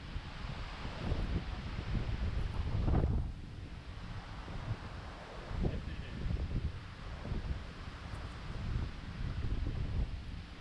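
Steady wind gusting across an outdoor golf course, a broad rushing roar buffeting the microphone with swells and dips throughout, no voices.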